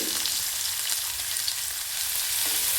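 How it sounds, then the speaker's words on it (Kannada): Onions frying in hot oil with spluttering mustard seeds, a bright, steady crackling sizzle heard up close and alone. "ಸಾಸಿವೆ ಚಟಪಟ ಆದ ನಂತರ ಈರುಳ್ಳಿನ ಸೇರಿಸ್ತಾ ಇದ್ದೀನಿ."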